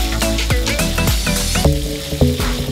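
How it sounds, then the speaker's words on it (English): Halibut fillets sear in extra virgin olive oil in a hot pan, giving a loud, close sizzle with irregular pops and crackles throughout. "then we're gonna sear these things"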